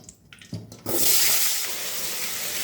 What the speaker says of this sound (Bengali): এবার এই তেলের মধ্যে দিয়ে দেবো আলু